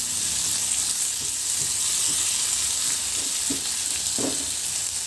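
Squid adobo with tomatoes sizzling steadily in a pan, with a few soft scrapes and clacks of stirring near the end; close, continuous frying with no talk.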